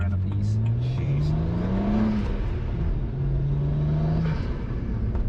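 A 2008 BMW 135i car engine revs steadily and loudly, with its pitch rising and falling beneath a constant rumble that runs through the whole clip.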